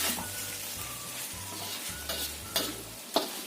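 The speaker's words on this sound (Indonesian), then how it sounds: "Kita aduk." A wok-style pan of chicken with spring onions is stirred just after the heat is switched off: steady scraping and stirring strokes over a faint lingering sizzle, with a few sharper clinks of the spatula near the end.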